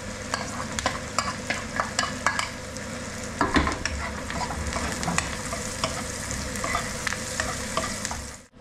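Onion and garlic sauté in a hot pan, a continuous close sizzle broken by repeated sharp scraping stirs and clinks of a utensil against the pan.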